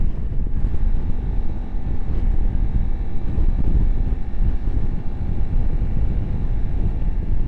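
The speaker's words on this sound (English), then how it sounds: "higher speed I can feel a little bit wind on my helmet" Steady wind buffets a helmet while a 2025 Honda CRF300 Rally motorcycle rides at speed, a constant broadband rush that carries on throughout with no talking.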